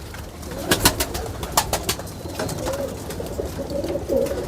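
Teddy pigeons of a pure Kamagar bloodline cooing steadily nearby, soft throaty coos repeating under a low background murmur, with no voices over them.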